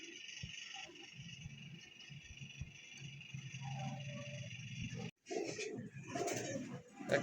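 Fancy pigeons in a loft coo softly and repeatedly across the clip, with brief bird calls and some shuffling, plus a short pause near the end before the sounds resume.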